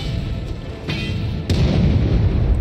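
Cannons fire in the co-op video game Trine 5: A Clockwork Conspiracy, two sharp booms a short gap apart over continuous game rumble and ambience.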